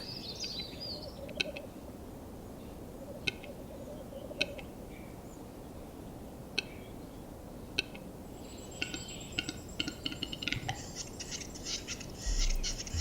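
Sharp, isolated bird calls ring out every second or two over a quiet outdoor hush in the Bulgarian wild, then a rapid chattering call rises near the end.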